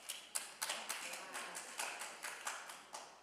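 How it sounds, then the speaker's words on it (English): Scattered applause from an audience at an annual meeting: faint, evenly spaced claps from just a few people, coming from some distance in a quiet room. "Thank you for applauding that"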